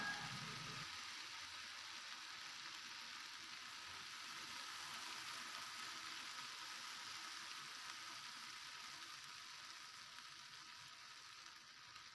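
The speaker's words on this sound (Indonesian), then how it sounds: "Tumis bawang merah yang sudah diiris tipis, lalu masukkan bumbu halus." Thinly sliced shallots and ground spice paste sauté in a pan, giving a soft, even, continuous sizzle that fades slightly toward the end, with no voices.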